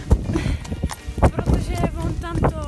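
Horses' hooves clip-clop near the stables at a show-jumping competition, giving a run of sharp, close, uneven knocks against a background of nearby voices.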